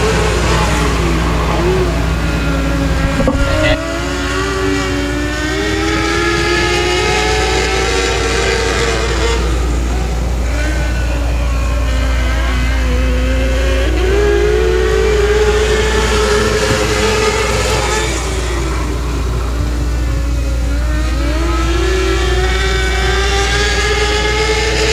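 600cc race cars tear around Boothill Speedway in Louisiana during a heat race, their high-revving engines rising and falling continuously as they pass through the turns, loud and sustained throughout with no talk.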